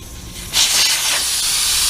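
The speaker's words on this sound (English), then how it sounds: "Let the air out of the tire." Car tire with its valve core removed lets out air in a sudden loud hiss that starts after a short pause and holds steady until the end.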